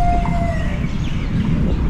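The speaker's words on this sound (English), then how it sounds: "There's like the monthly siren alarm." A monthly outdoor siren alarm heard on a drizzly walk, a distant wavering tone gliding downward, faint over steady outdoor rumble.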